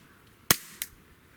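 A CZ SP-01 Shadow pistol firing, heard as one sharp crack followed shortly by a second smaller impact-like snap, then quiet.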